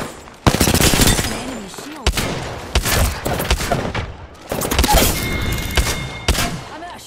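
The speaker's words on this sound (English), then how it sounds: "They're shooting at me." Loud, close gunfire in the video game Apex Legends, with rapid automatic bursts and sharp single shots coming in several waves, plus some thumps and game effects.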